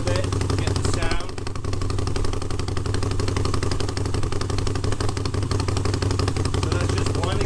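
A Moto Guzzi V7 motorcycle idles close by with one exhaust opened up, a steady, loud, throbbing mechanical clatter held throughout, with a person talking over it.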